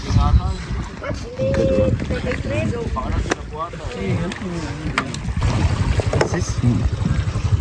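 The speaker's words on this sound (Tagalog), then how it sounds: "Yan po yung aming passenger na bangka." A passenger boat out on the water, with a droning motor, wind buffeting the microphone and splashing, under people talking throughout.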